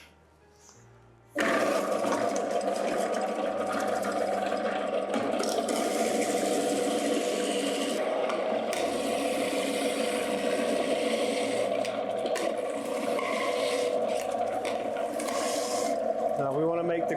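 A Robot Coupe CL50 food processor fitted with a grating disc starts up abruptly and runs continuously, a loud steady motor whir and grinding drone with slight shifts in pitch, alone after a quiet moment.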